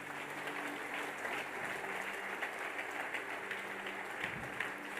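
Church congregation clapping during a worship service sermon, a steady, fairly quiet wash of many hands from a distance, with low sustained music underneath and a brief voice near the end.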